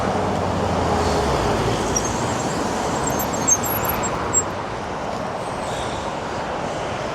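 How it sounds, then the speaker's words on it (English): Road traffic rushes past a cyclist near Winscombe in North Somerset, a steady broad roar of passing cars, with a couple of brief knocks close by. "Can you hear the traffic now?"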